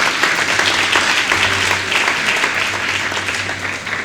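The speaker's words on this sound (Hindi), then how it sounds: "इसलिए एक बार फिर से इनके लिए जोरदार तालियों की" Enthusiastic applause from an audience at a weekly discussion gathering, dense continuous clapping lasting the whole stretch at steady loudness.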